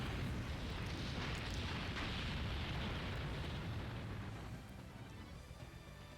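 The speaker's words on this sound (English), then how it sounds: "So let's try Explosion." An Explosion attack in The Legend of Dragoon video game sends out a dense, sustained roaring blast that rumbles steadily for several seconds and then fades slightly, with no voices over it.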